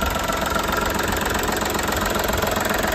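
Close, steady idle of the three-cylinder diesel engine in a 2006 VW Polo 1.4 TDI, a continuous knocking rumble with even rhythmic pulses and no talk.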